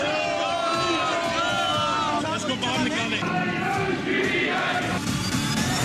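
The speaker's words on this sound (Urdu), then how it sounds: "नारे, शोर शराबा और खामोश खामोश की सदाएं।" Slogans and uproar erupt in Pakistan's National Assembly at its inaugural session as newly elected members take oath, with dense overlapping shouting, chanting voices and crowd noise, loud and continuous.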